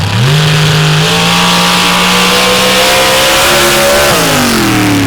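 A dirt drag racing car at the Upper Merrimack Dirt Drags launches hard, its engine roaring loud and close, revving up through rising pitch before a gear change near the end.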